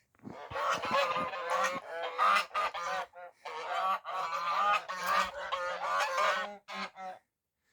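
A flock of geese in snow honking loudly and continuously, many overlapping calls with brief pauses, close by.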